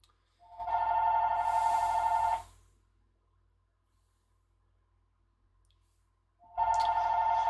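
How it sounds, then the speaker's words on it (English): A telephone rings in the background with a steady electronic trill that lasts nearly two seconds. After a long silent gap a second ring begins. Both rings are moderately loud and there is no talk. "the phone's ringing in the background"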